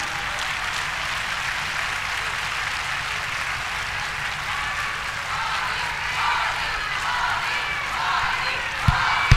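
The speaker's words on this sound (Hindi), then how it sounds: "एक बार जोरदार तालियां" A crowd at a Bharatiya Janata Party political rally in Delhi applauds steadily, a dense continuous wash of clapping lasting several seconds with faint crowd noise underneath.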